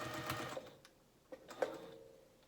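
A sewing machine bastes dress fabric in place, a short close burst of motor whir and stitching followed by quieter clicks and a fading hum.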